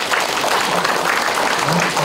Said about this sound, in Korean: 이 분들한테 박수 한번 힘차게